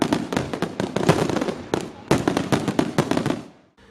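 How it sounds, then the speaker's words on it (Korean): Fireworks display closing a Lunar New Year festival in New Zealand: a dense run of loud, sharp bursts and crackles close together for several seconds, then a brief pause, another volley, and a fade toward near-silence at the end. "올해 설날 축제도 화려한 불꽃놀이가 마지막을 장식했습니다"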